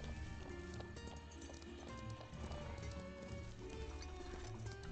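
Horse hooves clip-clopping in the Ranch of Rivershine video game near the Pine Forest, a continuous rhythmic patter of several horses over a game music bed, fairly quiet.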